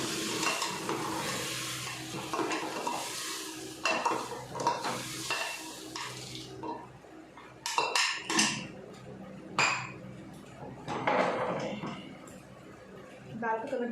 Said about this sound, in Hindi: अभी तड़का डाले इसमें ठप कर।